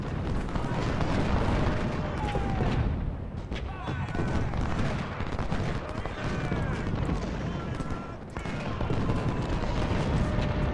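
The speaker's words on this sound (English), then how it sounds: "That artillery is really nasty." Artillery fire in Ultimate General: Civil War during the Fredericksburg battle, a continuous rumbling barrage of cannon booms and crackling musketry, heavy and sustained throughout, with a commentator talking over it.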